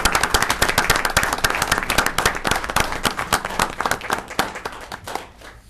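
A meeting audience gives a round of applause for 4-H leaders, volunteers and master gardeners, a moderate group clapping in distinct, crisp claps that thin out and fade toward the end.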